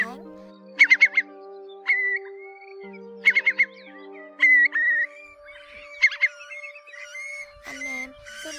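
Repeated calls of a Eurasian curlew, a large curved-billed migratory shorebird, ring out in clear bursts of rapid trilling notes, loud and close, over a steady low drone with a few rustling noises near the end.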